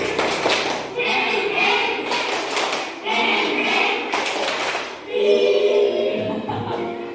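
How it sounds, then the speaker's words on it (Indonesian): Classroom of schoolchildren doing the "tepuk motor" clapping rhythm game, standing up, with rapid group clapping and tapping in bursts alongside children's voices. "Tepuk motor."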